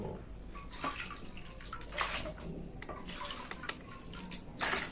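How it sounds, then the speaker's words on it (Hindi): Water is poured by the bowlful into a cow dung mixture, giving uneven splashes and gurgles in short bursts. It is close but fairly soft, and no one speaks. "हमने इसमें 4 कटोरी पानी डाल लिया है।"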